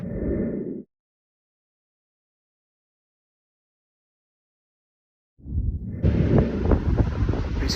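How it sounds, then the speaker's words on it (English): Wind roars against the microphone in a brief gust, then cuts to silence for several seconds before returning louder with rumbling, buffeting bursts. "it's quite windy and we're in the middle of nowhere"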